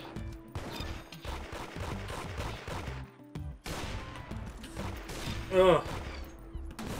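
Rapid gunfire in the Roblox game Arsenal, bursts of quick repeated shots crackling fairly close with brief pauses between volleys, while a person grunts and talks over it.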